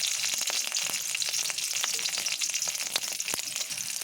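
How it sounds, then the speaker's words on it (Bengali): Green chilies are dropped into hot oil in a kadai for tempering and sizzle loudly and continuously, with dense crackling pops, alone and without talk. "কাঁচা লঙ্কা ফোড়ন দিয়ে দিলাম"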